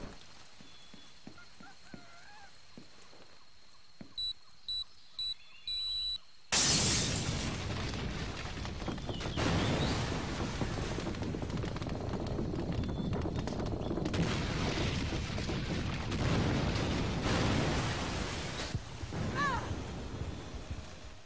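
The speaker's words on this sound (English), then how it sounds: "this exploding bridge thing again." A bridge exploding in a video game: after a few quiet beeps and clicks, a sudden loud blast gives way to a long roaring rumble of debris that swells and fades over many seconds.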